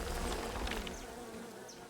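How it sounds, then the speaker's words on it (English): Bees buzz close by in the video game Len's Island, a loud, wavering insect drone that fades slightly over two seconds, with no speech. "I forgot about bees!"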